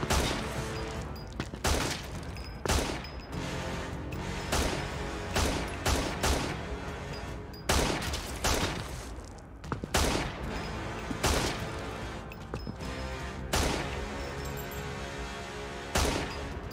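Repeated gunfire blasts through a Friday the 13th fan film scene, sharp loud shots and short bursts landing in an uneven rhythm for the whole stretch, with brief shouting voices between them.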